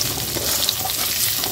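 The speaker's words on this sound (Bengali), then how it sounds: "আমি ভাবছি একটু ভেজে নিয়ে দেখি অল্প করে" Coconut pieces fry in a pan, a loud close crackling sizzle with busy stirring scrapes, steady throughout the short moment and with no voices over it.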